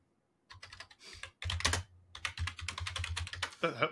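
Fast, irregular typing on a computer keyboard, with clustered clacks in quick bursts, close by and loud. A short pause after the first burst, then denser typing.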